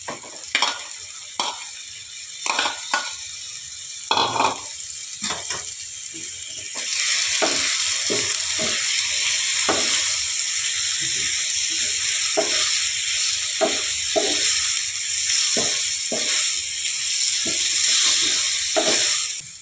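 Chicken pieces sizzle in a hot pan along with chopped tomato, with repeated scraping and clanking strokes as a spoon stirs them; after a few seconds the frying hiss grows steadier and louder, and no one speaks.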